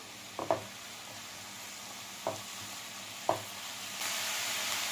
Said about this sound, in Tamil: அடுப்பு நல்லா ஹை ஃப்ளேமில் வச்சு வதக்குங்கணும்.